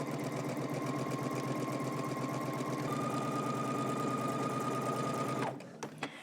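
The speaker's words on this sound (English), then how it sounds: "we can head to the sewing machine and top stitch" A sewing machine topstitches a dress, running fast and steady with a rapid mechanical chatter for several seconds before stopping, followed by a couple of small clicks.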